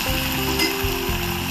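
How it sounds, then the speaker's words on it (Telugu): Onion and mint frying in hot oil in a pot give a dense, steady sizzle up close, with faint stirring scrapes underneath. "గిన్నె వేడి చేసుకొని ఆయిల్ వేసుకొని ఒక ఆనియన్ ఫ్రై చేసుకొని అది బ్రౌనిష్ అయిన తర్వాత పుదీనా వేసి కలుపుతూ"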